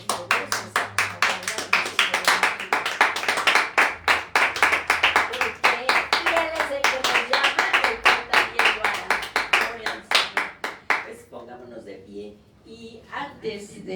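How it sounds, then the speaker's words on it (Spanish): Congregation clapping in church, giving an ovation to God during a service; rhythmic, fast, loud clapping continues for about ten seconds, with voices underneath, then fades into scattered claps and speech. "Les demos un fuerte aplauso a nuestro Dios."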